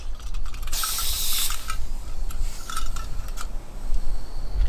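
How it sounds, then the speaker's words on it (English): Camping stove screwed onto a fuel canister: close metallic scraping and ratcheting twists with a brief hiss, over a steady low background rumble and no speech. "just quickly screw that thing onto the canister"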